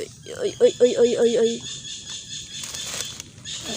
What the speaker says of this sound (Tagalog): Yan ang gusto kong ingay.